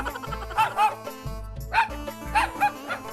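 A voice imitates a dog, giving a run of short yapping barks and whimpers, loud and close, with brief pauses between bursts.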